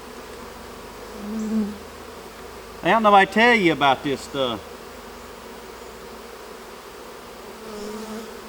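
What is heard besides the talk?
honey bees buzzing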